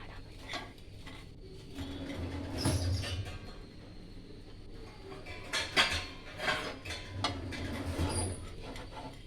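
A knife cuts a ripe mango on a plate. Soft irregular scrapes and taps of the blade and plate come close but quiet, with a few louder knocks.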